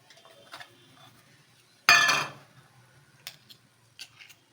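Jaggery is tipped into a metal pan with a sharp, loud clatter in the middle, followed by a few light clinks and taps of utensils against the vessel in an otherwise quiet kitchen.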